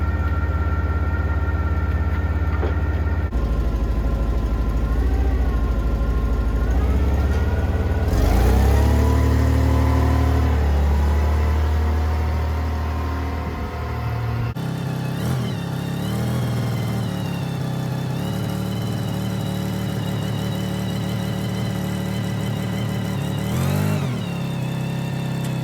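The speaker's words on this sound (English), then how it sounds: "use the forklift to move the trailer into final position" A Hyster forklift's mid-range engine drones loudly for a long stretch as it pushes a trailer into position in a shop, its pitch rising and falling with revving and a shift partway through.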